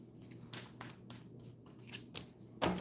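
Tarot cards shuffled and one card drawn, with soft papery riffles and slides, a few brief crisp flicks and a sharper snap of the card near the end, close and quiet with no talk.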